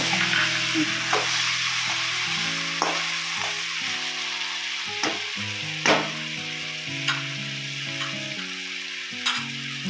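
Okra fries in a pan with tomatoes added, giving a steady close sizzle broken by occasional stirring scrapes and clinks, with no talking.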